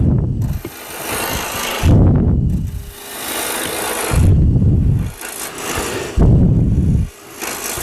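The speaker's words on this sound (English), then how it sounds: "Let's turn the lathe speed up a little bit since we've got it balanced." Wood lathe spinning a bowl blank at raised speed with a scraper-style Hunter Hercules tool, heavy low rumbling bursts of cutting alternating with lighter whirring, four loud cuts in a steady rhythm, close and alone.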